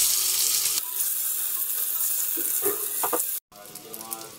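Eggplant pieces fry in hot oil for a fish curry, a steady close sizzle with a few stirring clatters, briefly cutting out near the end before resuming.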